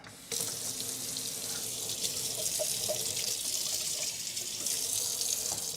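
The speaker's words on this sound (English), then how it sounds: "Let me rinse this." Sticky rice rinsed under a running kitchen tap, a steady splashing stream of water into a sink with slight bubbling, close and continuous with no talking.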